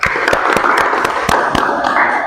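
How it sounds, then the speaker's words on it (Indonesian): A classroom at an automotive vocational school applauds a student named Bagas. The clapping is brisk, dense and close, and it runs steadily for a couple of seconds. "tepuk tangan untuk Bagas"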